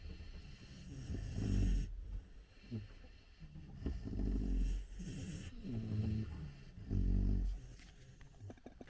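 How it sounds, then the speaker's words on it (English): Hound puppies at a hunting camp snoring and grumbling close by, with rhythmic raspy breaths, snorts and low growly noises rising and falling over about nine seconds. "Now I got some puppies making all kinds of noises."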